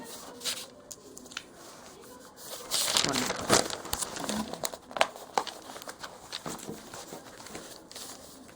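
Pen scratches across paper during a basic chemistry lesson, close scribbling strokes with some paper rustle and crinkle, loudest in the middle of the stretch.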